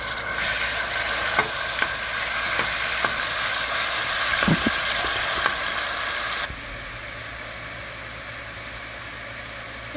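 Onion fries in a pan with a loud, steady sizzling hiss and a series of spatula taps and stirring scrapes, before the sizzle suddenly drops to a quieter background hiss; no one speaks.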